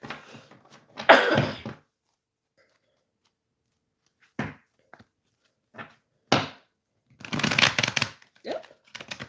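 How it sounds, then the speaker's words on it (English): An oracle card deck is shuffled by hand in several short bursts of riffling and flicking cards, separated by pauses, close and fairly loud, with some brief talking. "I hate when it doesn't shuffle right."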